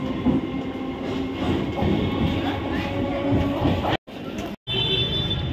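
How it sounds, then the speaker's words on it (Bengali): A busy train runs past at Champahati station, close and loud, with a continuous rumbling clatter of wheels and carriages interrupted by two brief dropouts near the end. "ব্যস্ততম ট্রেন এখন চলে যাচ্ছে।"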